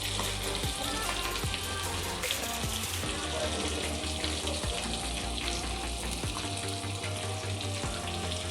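Fish fries in oil in a pan over a low gas flame, a dense, continuous sizzle and crackle that stays close and steady throughout.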